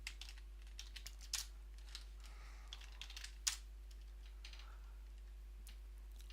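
Fingers tapping commands on a computer keyboard in a terminal session, soft scattered keystrokes with an occasional sharper key press, faint and close over a steady low hum.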